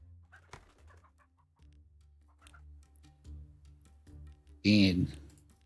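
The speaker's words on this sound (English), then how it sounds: "So we need a chicken farm." Chickens at a chicken farm in the Laysara: Summit Kingdom game: faint, sparse clucks over a low hum, then a louder squawking burst near the end, under someone talking.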